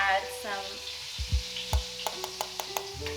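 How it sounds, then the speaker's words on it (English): Chicken for a crispy fried chicken burger frying in a pan: a continuous sizzle broken by the knocks and scrapes of stirring and a few dull thumps, close and fairly loud. "While the meat is frying,"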